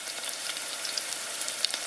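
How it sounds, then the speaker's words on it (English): Butter sizzling in a hot frying pan, a steady crackling hiss with small scattered pops, close and even throughout with no talking. "pour some butter into a hot frying pan and spread evenly"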